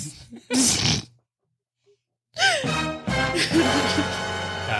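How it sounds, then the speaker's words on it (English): A sharp, breathy sneeze bursts out, followed by a brief silence, then a chaotic loud burst of mixed voices and noise. "And you sneeze."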